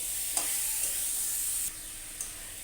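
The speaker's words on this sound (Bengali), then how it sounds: "মশলাটা একটু ভেজে এখন আমি দিয়ে দেবো টমেটো আর আলু" Spices frying in a pan with tomato and potato, giving a steady close sizzle with a few soft stirring clinks and a brief drop in intensity partway through.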